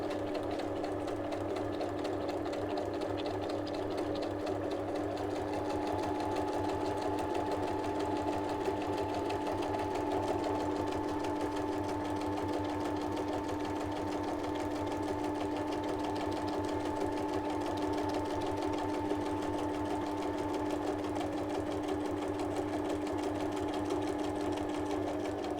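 A sewing machine running a zigzag stitch, a steady, continuous mechanical whir with rapid rhythmic ticking, close and moderately quiet, running without pause.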